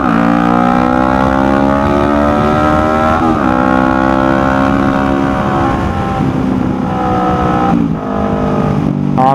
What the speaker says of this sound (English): I get a lot of sound and a lot of feedback off of the wall from the exhaust